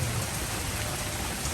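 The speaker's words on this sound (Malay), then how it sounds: "Guys, hujan lagi." Steady, dense rain falls in Ubud, Bali, a continuous close hiss that never breaks for the whole stretch, with no voices heard.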